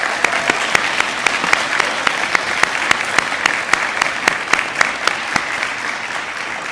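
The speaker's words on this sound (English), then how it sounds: "Please give them a round of applause." Audience clapping at a high school Seal of Biliteracy ceremony, a loud sustained round of applause with sharp individual claps standing out, steady throughout with no talk.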